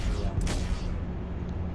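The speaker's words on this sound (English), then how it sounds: "the Omniski 6 laser cannons" A single burst of Omniski 6 laser cannon fire in Star Citizen's Arena Commander cuts through a steady low ship engine hum, with a bright blast around midway that quickly fades back into the drone.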